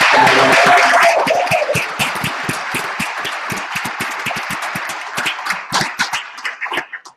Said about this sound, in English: Can we get the biggest round of applause?